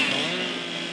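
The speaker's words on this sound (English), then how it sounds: "The sweet sound of chainsaws." Chainsaws cutting storm debris out of a residential canal in Cape Coral, Florida, give off a loud, steady buzzing whine that runs continuously and close for the whole brief moment.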